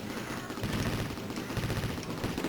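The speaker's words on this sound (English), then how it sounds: "Some of these enemies, they just puke out millions and millions of bullets." Rapid bursts of enemy gunfire and streams of bullets in the Amiga shooter Banshee, a dense, continuous rattling barrage filling the whole stretch at steady loudness.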